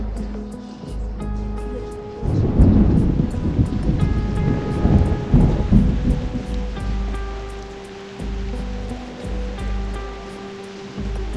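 A thunderstorm in the video game Reverse: 1999, with a steady roar of heavy rain and rumbling thunder swelling loudly midway, then easing to a constant wash, while faint musical tones ring over it.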